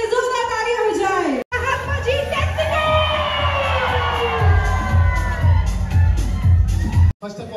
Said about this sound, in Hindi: प्रिया के लिए जोरदार तालियां हो जाए